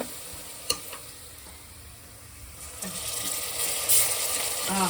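Onions frying in a pan for country chicken curry as ginger is added, a steady sizzle with a sharp clink of a spoon early on, the hiss growing louder and brighter toward the end.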